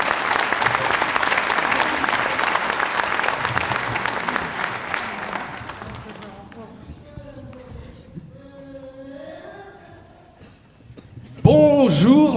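Audience at a cabaret show applauds loudly and steadily, the clapping fading out over several seconds before voices speak and music-like tones enter near the end.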